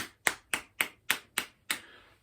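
Seven sharp, close hand claps in an even, steady pulse, each with a short decay and the last ringing out a little longer, performed at home as part of a children's music lesson on speed and pulse.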